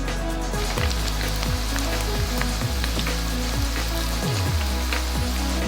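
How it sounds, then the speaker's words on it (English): Chips deep frying in hot oil at around 170 to 180 degrees, a steady dense crackling sizzle that stays loud and continuous throughout, with no talking. "So what we're going to do, fries on 170, 180. We're going to bash them in there and crisp these bad boys up"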